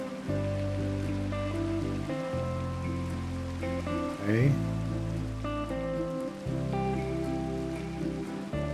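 Rain falls in a Minecraft 1.12.2 world as a soft, steady hiss beneath a prominent game music track, with a person briefly speaking.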